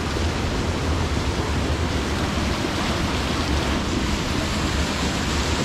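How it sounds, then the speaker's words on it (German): The Menzenschwand waterfall and its stream in the Black Forest near St. Blasien give a dense, steady rush of falling and flowing water, loud and close, with no voices. "Schon toll, gell, wie der Bach da rüberkommt."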